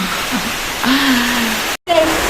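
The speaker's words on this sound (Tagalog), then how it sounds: "It's raining now." Heavy rain pours down outdoors as a loud, steady hiss of noise throughout, with a brief dropout near the end and faint tonal sounds over it.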